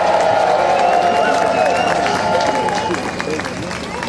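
A crowd in front of a concert stage cheers and applauds loudly, with whoops and clapping filling the space before it gradually eases off.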